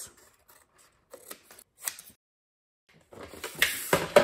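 Scissors snip through a paper folio template for a layered folio craft, a few faint cuts early on, then louder, denser crisp cutting and paper handling up close at the end.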